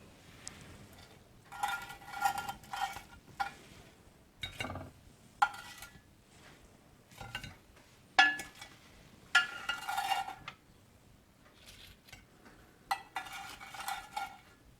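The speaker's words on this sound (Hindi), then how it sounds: "और अब मैं इसे सर्विंग डिश में निकाल लूंगी।" Baked Italian fish is moved into a serving dish: intermittent clinks and scrapes of a utensil against cookware, in short close bursts separated by quiet pauses, with no talking.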